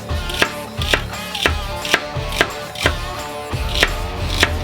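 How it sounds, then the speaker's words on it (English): Celery stalks chopped with a knife on a cutting board, sharp regular chops about twice a second, close and clear with no talking. "you gotta see the real chopping every now and then"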